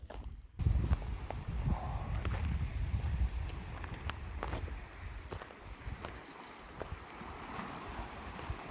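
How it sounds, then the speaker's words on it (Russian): Steady wind rushes and buffets outdoors by Lake Baikal, a low roaring gust noise with faint scattered knocks and rustles underneath, no voices. "А здесь ветер немножко."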